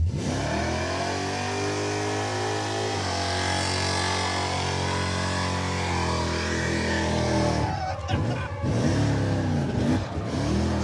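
A 1957 Chevrolet Bel Air engine revs loudly and continuously, pitch rising and falling through several long pulls, with choppier bursts of throttle near the end.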